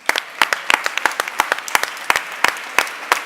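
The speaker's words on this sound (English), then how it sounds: "So big round of applause for all 4 teams." Sparse, distinct hand claps at a startup pitch day event in Berlin, individual sharp claps in an irregular rhythm rather than a full crowd roar, fairly close and unaccompanied by speech.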